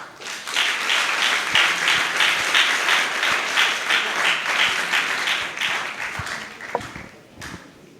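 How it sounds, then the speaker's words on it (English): A school audience applauds to welcome a guest speaker at a WASSCE exam-tips event, steady rhythmic clapping filling the room for several seconds before tapering off near the end. "with a warm round of applause, I introduce to you Mr. Jamil Mustafa."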